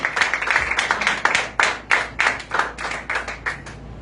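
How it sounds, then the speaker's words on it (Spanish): Scattered hand claps ring out from a small congregation during a religious teaching session: a few uneven bursts of clapping, then sharper, separate claps in a loose rhythm, close and clear with no talk. "Así que den un aplauso al Eterno por esto"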